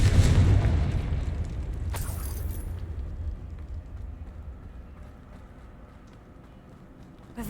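A Confringo spell explosion in the Hogwarts Legacy video game, a loud deep boom at the start that rumbles and slowly fades, with a sharp crack partway through.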